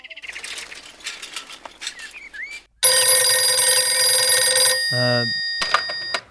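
A telephone rings loudly in a dubbed South Indian action film scene, a dense electronic ring lasting about two seconds after quieter birdlike chirps, then cut off.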